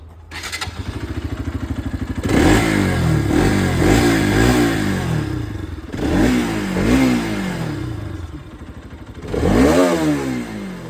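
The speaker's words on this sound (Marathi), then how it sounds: "गाडीची फायरिंग आहे का? चालू कर गाडी." A Bajaj RS200 sport bike starts up close by, then idles before revving hard in three distinct bursts, with the engine note rising and falling after each throttle blip. No one speaks.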